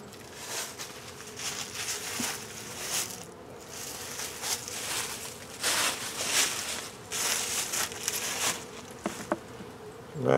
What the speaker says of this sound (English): And it's a pretty good amount of bees in there.